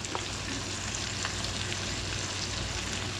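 Onions sizzle steadily in a hot pot alongside a chuck roast for Southern-style smothered pot roast, a constant close, dense frying hiss with no talk.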